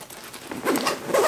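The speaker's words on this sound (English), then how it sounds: "this zipper, which is quite a bit bigger" A larger zipper on a multi-compartment bag is pulled open in quick, scratchy ratcheting bursts that grow louder toward the end, close and alone with no talking.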